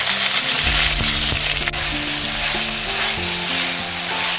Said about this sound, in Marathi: टोमॅटो आहे ते तो शिजेपर्यंत मी ते परतून घेतो